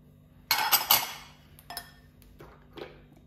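Apricot jam and melted butter going into a mixing bowl for malva pudding, with a burst of clinking utensils against the bowl followed by a few lighter, scattered clinks and taps.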